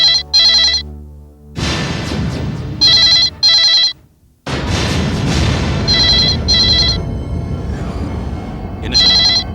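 A telephone bell rings loudly in repeated double bursts, its trilling rings broken by stretches of dramatic background score, with no voices heard.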